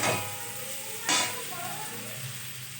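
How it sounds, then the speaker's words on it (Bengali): Cauliflower frying in a pan for a roast, a soft continuous sizzle with a louder burst of spatter partway through, fairly quiet and heard alone. "ফুলকপি রোস্ট করছি, এই জন্য ফুলকপিটা ভাজছি।"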